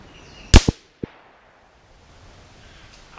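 A 17 HMR rifle fires at a target, giving two sharp, loud reports close together, then a smaller crack a moment later, followed by near silence.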